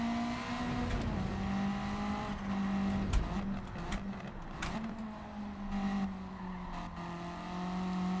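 A race car in the Gran Turismo video game drones along under steady engine tone that rises and falls with shifting pitch, with occasional brief tire noise, moderately loud throughout.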